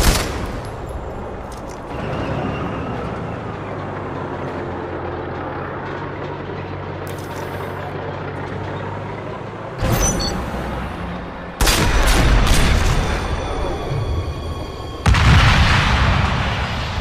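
Gunfire and explosions fill a Sniper Fury castle assault mission, with rattling bursts over a steady rumble and several loud booming blasts breaking out near the end.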